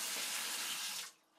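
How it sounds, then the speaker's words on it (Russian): Tap water in a five-storey apartment block pours steadily from a faucet as a broad, even hiss, then cuts off near the end, leaving near silence. "вода из крана течет"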